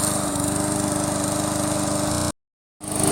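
A remote control lawn mower engine running close and loud with a steady pulsing drone, cutting out abruptly to silence near the end before briefly starting up again.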